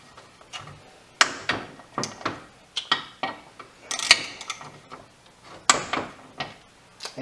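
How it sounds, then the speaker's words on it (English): Torque wrench tightening bolts on a 3000GT / Dodge Stealth transmission during input bearing endplay setup, giving a series of sharp metallic clicks and ticks spaced irregularly, close and fairly quiet, with no talk. "So we're going to go ahead and torque these to spec."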